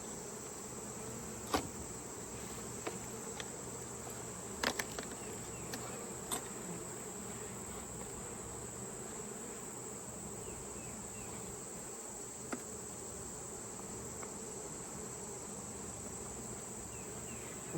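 Honey bees buzzing around an opened beehive during comb honey harvesting, a dense steady drone close to the microphone with occasional louder passes of single bees, no voices.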